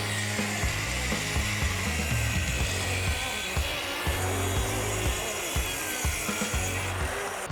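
A Wen power saw cuts through 1 inch plywood with a loud, steady whine and a rough grinding rasp that pulses slightly as the blade labors through the thick wood, continuous and close with no talking.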